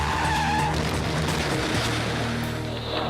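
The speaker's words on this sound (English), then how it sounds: "After the spin out, she puts her car in gear and gets back on the track." A race car skids through a spin-out on a track, tires squealing and scrubbing loudly under the engine's roar, fading slightly toward the end.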